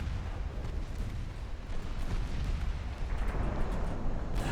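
Naval guns firing full spread in the warship game Ultimate Admiral Dreadnoughts, heard as a dense, continuous rumble of heavy cannon fire and booming blasts, steady and loud throughout with no talking.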